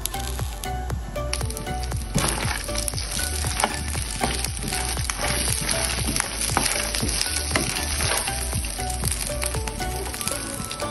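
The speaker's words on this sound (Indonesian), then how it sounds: "Kita goreng kacangnya ya" Steady crackling sizzle of peanuts frying in hot oil, with rapid popping bursts running throughout, close and loud.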